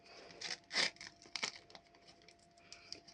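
Crinkly tearing and rustling of a small paper surprise packet being ripped open, close and quiet, in a few short bursts.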